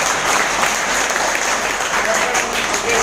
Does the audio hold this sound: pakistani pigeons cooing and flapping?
no